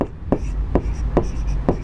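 Pen or chalk strokes writing out a coordinate geometry problem, a few brief scratchy marks at a steady pace, close and fairly clear.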